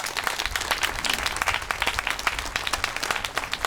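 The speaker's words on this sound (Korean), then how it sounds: "모두 서로를 환영하는 마음으로 큰 박수 부탁드리겠습니다." Guests at a memorial evening applaud together, a steady dense patter of many hands clapping at close to moderate distance, uninterrupted with no voices.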